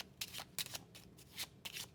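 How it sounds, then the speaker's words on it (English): A deck of 18 cards being shuffled by hand, giving four quick riffling bursts of papery rustle at a steady rhythm, close and clear with no talking. "So you shuffle these."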